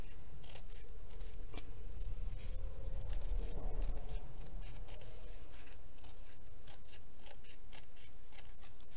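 Scissors cutting around a Christmas table centrepiece craft piece, a close run of repeated crisp snips and rustles at an uneven rhythm, with no voices.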